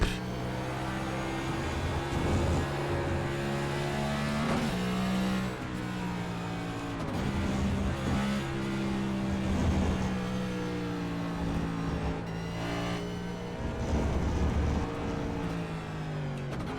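A race car lapping Circuit of the Americas in the iRacing sim, the engine droning continuously with rising and falling revs through gear changes, loud and up front with no voice over it.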